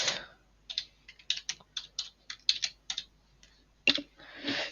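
Typing on a computer keyboard, a run of close, crisp key clicks in an irregular rhythm with short pauses, ending in a couple of louder presses.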